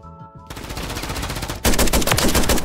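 A KV gun fires in a video game in a rapid automatic burst of loud, sharp shots, then the volume jumps into a denser, heavier stream of gunfire near the end.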